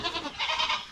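Small goats bleating on a farm pen, including young kids, several overlapping nasal cries close by that rise and fall across a brief moment.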